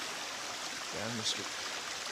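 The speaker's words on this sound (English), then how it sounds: "Down the creek there." A creek flows along the Vermont Long Trail, a steady broadband wash of water running continuously throughout, with a voice speaking briefly partway through.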